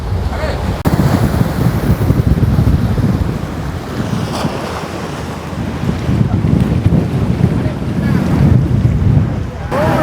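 Strong wind roars steadily across the microphone on Analaitivu Island's shore, with surf and open-water noise beneath it, loud and continuous throughout.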